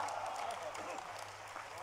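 Audience applause for Ram devotees at a poetry recital with a spiritual leader, a dense steady patter of clapping from a hall crowd, sustained at even loudness throughout with a faint voice mixed in.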